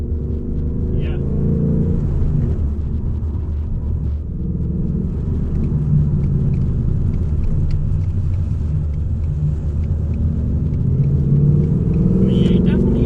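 A 2018 Ford Mustang GT rumbles steadily while driving, its deep V8 drone constant under road and cabin noise, with a person talking over it throughout.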